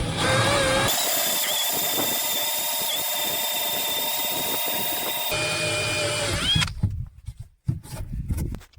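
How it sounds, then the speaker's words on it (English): A power drill running a hole saw through the wall of a soaking tub, a steady high whine for several seconds that then stops, followed by a few irregular clunks and handling noises. "it's time to drill the holes for the inlet and outlet"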